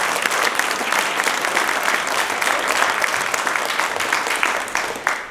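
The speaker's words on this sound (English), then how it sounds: "Let's have one more round of applause for all who's went to work." Loud, dense audience applause fills a room at a county Republican candidate forum, a close, steady wash of many hands clapping that eases off slightly at the very end.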